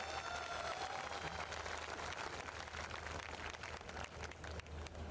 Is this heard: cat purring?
no